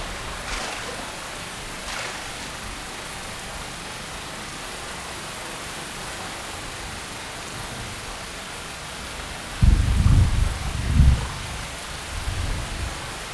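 Steady heavy rain pours down in the Amazon rainforest as a thunderstorm passes, a continuous wash of hiss with a deep rumble of thunder swelling near the end.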